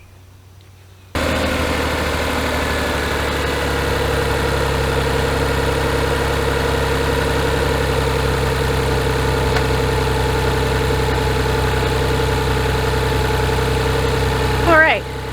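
A 1999 Chevy Metro engine fires up after a second of quiet and settles into a steady, close idle that continues evenly as it warms, with a voice speaking over it.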